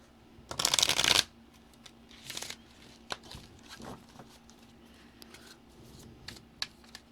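A deck of Game of Thrones tarot cards is shuffled close by, one loud riffling burst early on, then softer card handling, taps and slides in a quiet room.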